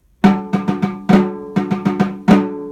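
A snare drum plays a short rhythmic passage of about eight crisp, close strokes, with the accented hits ringing out noticeably louder than the softer notes between them.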